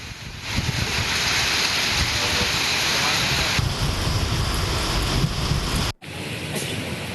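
Heavy rain falls in Bhandara during the paddy harvest season, a loud continuous roar of drops on surfaces with a brief cut near the end before the downpour resumes.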